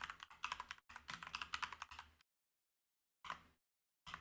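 Rapid clicking keystrokes on a computer keyboard, close and crisp, in two quick bursts separated by a short pause and a final brief tap, with no talking.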